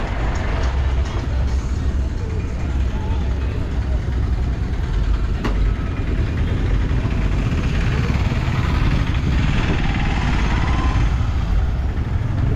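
Busy town traffic in Thika, Kenya, with tuk-tuks and motorbikes: a steady, loud wash of idling and passing engines, close by and continuous throughout, with murmured voices mixed into the street noise.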